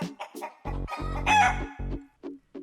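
A rooster crows in a loud, close cock-a-doodle-doo, followed by a few short clucks that trail off, with nothing else audible.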